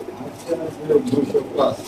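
Pigeons at a racing-pigeon farm give soft throaty coos in a short burst, close by, while someone talks over them.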